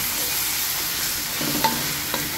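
Biryani ingredients, including cumin, fry in a pot while being stirred, a close, steady hiss of sizzling oil with a couple of brief scraping stirs.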